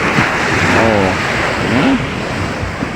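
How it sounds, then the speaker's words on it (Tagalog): Sea waves wash onto a beach beside a seaside home on waking, with gusting wind buffeting the microphone and a voice talking briefly over the steady surf. "ang mabubungaran mo dito ay ang dagat"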